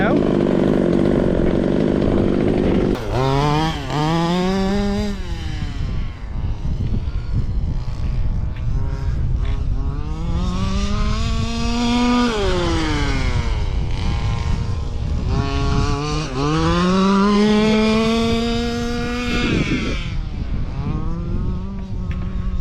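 A gas-powered Traxxas Rampage XB radio-controlled truck engine runs loud and close, its buzzing two-stroke whine rising and falling in repeated revving sweeps throughout.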